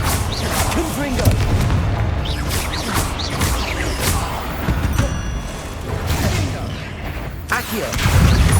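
Confringo fire blast spells in Hogwarts Legacy, cast repeatedly in a spider fight, land as a series of loud booming bursts amid dense combat noise, with voices and creature sounds mixed throughout.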